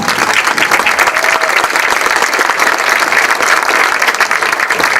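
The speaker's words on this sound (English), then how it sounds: "how about a round of applause for these gentlemen?" A crowd at a town sesquicentennial opening ceremony gives a loud, dense, continuous round of applause for several seconds.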